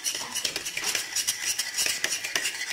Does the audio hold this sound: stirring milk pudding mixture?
yes